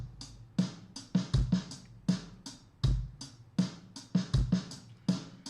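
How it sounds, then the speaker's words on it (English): Drum groove with steady straight eighth-note hi-hat, kick, and extra syncopated snare hits added around beats two and three, played close and clear with no talking. "if I add a snare hit on the 2E and of 2 and the 3E, the E of 3, it sounds like this"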